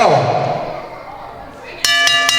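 A ring bell clangs at a wrestling event, sounding three sharp metallic strikes in quick succession near the end, after a stretch of muffled crowd noise.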